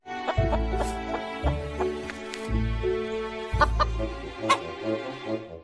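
A hen clucks in short repeated bursts, fairly close, over a bright, musical children's backing track with no talking.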